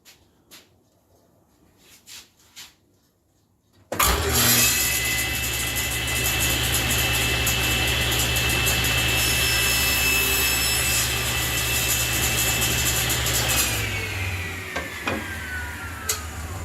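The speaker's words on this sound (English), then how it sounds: "you can put your piece of wood in place and make the cut." A table saw roars to life after a few quiet knocks and cuts a piece of wood held against the miter gauge, a loud steady whine with a rising pitch that winds down near the end.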